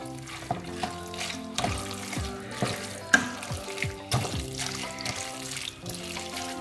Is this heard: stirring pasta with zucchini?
yes